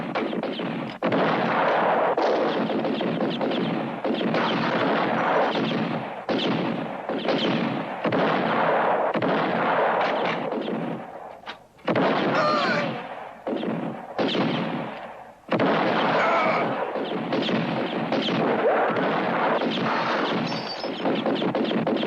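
Repeated rifle shots crack out in a spaghetti western set at the Grand Canyon, loud bursts of gunfire following one another throughout with short gaps between volleys and no talk over them.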